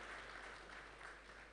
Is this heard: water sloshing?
no